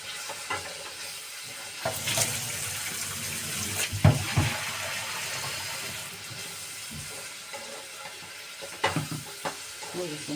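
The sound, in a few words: tap water being added to a cooking pot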